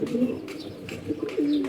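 Pairing pigeons coo in warm weather, two or three deep, rolling coos close by, with a short pause between them and nothing else over the top.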